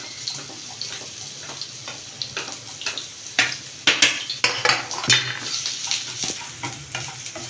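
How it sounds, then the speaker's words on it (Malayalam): Thinly sliced potato sautéing in a pan, with a steady sizzle beneath repeated close scraping and clattering stirring strokes that grow busier toward the middle. "നമുക്ക് ആ പൊട്ടറ്റോ ഇടാം, ഇതുപോലെ തന്നെ വാട്ടിയെടുക്കാം."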